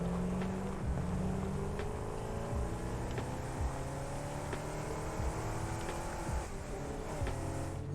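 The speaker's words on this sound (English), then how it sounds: "I will say the engine sound for this thing is extremely satisfactory" A vehicle engine in the Satisfactory video game drones steadily with a low, continuous rumbling tone and faint pitch shifts, holding at an even level throughout with no voices.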